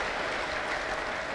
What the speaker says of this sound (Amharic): ጭብጨባ አምጡ